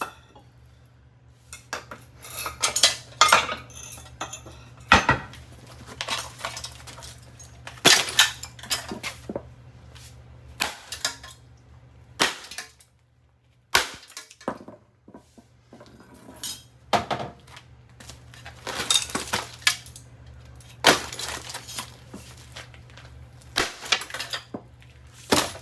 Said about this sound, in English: we gotta break those damn screws off.